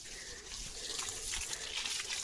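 Water is poured over a dog during a morning bath, making a continuous hissing splash and trickle that stays fairly even and close, with no voices.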